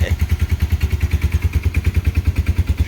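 A Honda engine idles steadily in a shop, its low, even pulsing beat close and loud with a light clatter on top, running on without voices.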